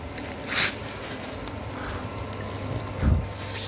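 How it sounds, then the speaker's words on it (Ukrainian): A steam-type fog generator for mushroom mycelium runs as a steady, close hissing rush, with two brief louder puffs and a low rumble underneath. "Отакий туманогенератор."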